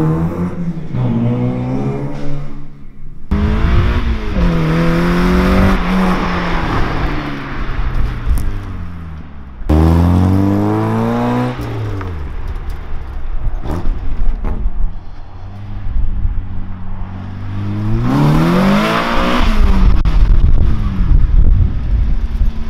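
Spec Miata race car pulling away with rising and falling engine revs through several gear changes, loud and close at first with wind buffeting the microphone, no talk.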